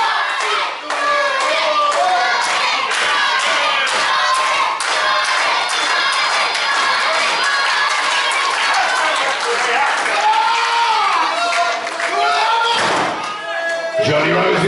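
At a wrestling match, the crowd claps and cheers loudly and continuously, with thuds and slams from the ring mixed in and voices shouting over the noise.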